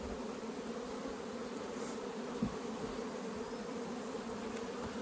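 Honey bees swarm around a brood frame lifted out during a manual hive split. A dense, steady, close-up buzzing hum continues without a break, with one brief bump partway through.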